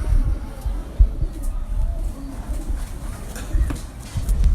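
A pigeon held up for display at a pigeon show gives low, soft coos that are partly buried under steady crowd murmur and nearby voices.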